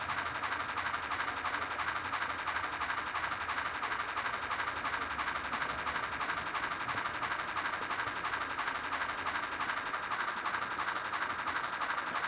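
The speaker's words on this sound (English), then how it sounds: "the S6 class switcher prepares to shove the rest of an ore train over a weigh-in-motion scale" An S6 class switcher locomotive shoves an ore train over a weigh-in-motion scale in a rail yard. A steady mechanical drone with rapid rhythmic clatter runs unbroken and fairly distant throughout.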